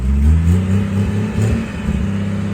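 A Jeep Cherokee XJ with dual transfer cases in double-low first gear idles up a steep, nearly 45-degree rocky trail on 35-inch tires, a loud low engine rumble with slight surges, close and continuous.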